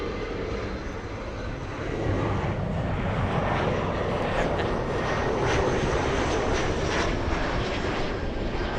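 At LAX, an Embraer E175 airliner's engines produce a loud, sustained roar that builds after the first couple of seconds and holds steady, heard from a distance with no voices.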